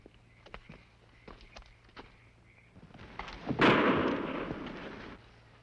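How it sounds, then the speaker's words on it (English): A single pistol shot in a 1950s Western TV drama bursts out sharply and rings into a long, loud decay, preceded by faint footsteps and scuffing. "Pistol shot."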